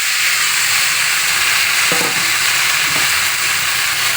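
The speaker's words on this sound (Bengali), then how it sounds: "এবার আমি এই যে আলুটা কেটে নিয়েছি ছোটো ছোটো করে, আলুটা ঢেলে দিয়ে দেবো" Chopped potatoes go into spices frying in a pan and set off a loud, continuous sizzle that stays steady throughout. A couple of faint clinks of a utensil sound partway through, and nobody speaks.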